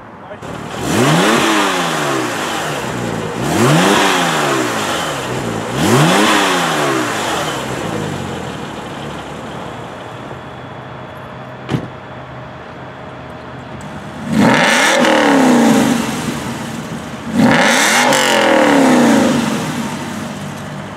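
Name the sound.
sports car engine revving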